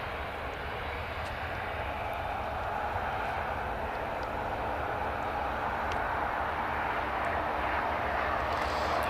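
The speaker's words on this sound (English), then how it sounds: "There's the TUI 737 MAX just pushing back, and the Freebird just taxiing" Airliners on the ground at Newcastle Airport, a TUI Boeing 737 MAX pushing back and a Freebird jet taxiing, make a steady, broad jet-engine roar that holds even and gently swells toward the end, with no talk.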